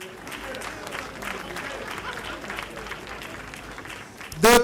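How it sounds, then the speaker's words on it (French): Audience applause at the Soirée Cauris 2012 award ceremony, a steady, dense patter of many hands that runs throughout at moderate loudness and ends in a short loud burst. "encore des applaudissements nourris"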